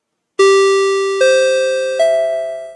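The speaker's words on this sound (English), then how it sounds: "let's ring the chimes again, because I enjoy the little sound maker thing" Three electronic chimes ring out one after another from a race track announcer booth, each a bright sustained tone stepping upward in pitch and slowly decaying, loud and close with no talk.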